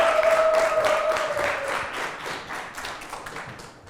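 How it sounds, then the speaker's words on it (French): An audience claps for a child at a holiday gathering of recitations by children from Kigali, a dense patter of many hands that starts strong and slowly thins out, with no speech over it. "J'aimerais qu'on applaudisse pour Irvine."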